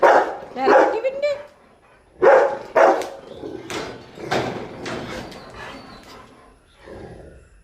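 A Rottweiler dog barks in a few loud, close bursts, with a pair of quick barks partway through and quieter barking after, while people talk nearby.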